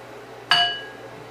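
A single bright clink of a spoon against a ceramic ramekin as egg mixture is spooned in, one sharp ringing tap that fades quickly, close and alone.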